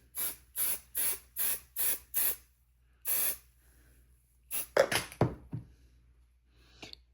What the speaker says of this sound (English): Okay, so spray the back.